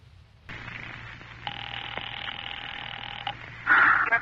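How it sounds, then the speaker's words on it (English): An old telephone line gives a steady dial tone followed by a series of tones and clicks, then a brief burst of ringing, thin and band-limited like a vintage broadcast recording, with no talking. "Operator, I've been dialing Murray Hill 70093 now for the last 3/4 of an hour."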